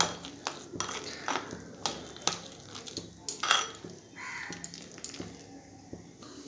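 A hand works a thick masoor lentil batter with gram flour for fritters in a bowl, producing irregular soft squelches and light clinks against the bowl, close by and with no talking.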